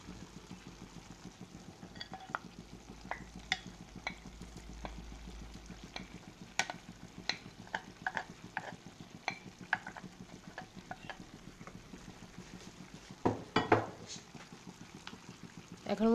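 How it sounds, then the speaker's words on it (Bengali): Mutton pieces go onto nearly cooked rice in a pot for biryani and are spread across the top, heard as a soft steady simmer broken by scattered spoon clicks and scrapes and a louder clatter near the end. "এখন আমি এর মধ্যে মাংসগুলো দিয়ে দেব।"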